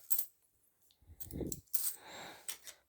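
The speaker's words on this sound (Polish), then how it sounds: "Monety okolicznościowe idą na kubkę." Several commemorative coins dropped one after another into a cup, giving bright metallic clinks and jingles in quick bursts over a few seconds, close and fairly quiet.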